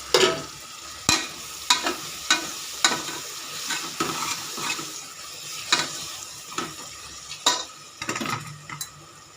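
Oil sizzles steadily in a pan as greens are tempered, while a utensil scrapes and stirs in regular strokes, with occasional clinks against the metal.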